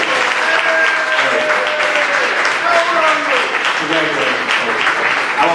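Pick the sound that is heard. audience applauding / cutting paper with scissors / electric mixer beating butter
audience applauding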